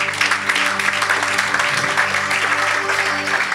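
A church congregation applauds the Lord during a French-language service, a steady, dense wash of clapping lasting a few seconds with music playing underneath.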